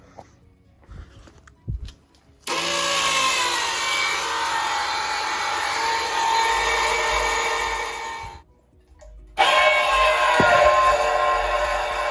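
Fuel pump whirring as fuel moves through the new fuel system of a K24-engined race car, a steady buzzing drone that runs for several seconds, cuts out briefly and starts again, close and fairly loud.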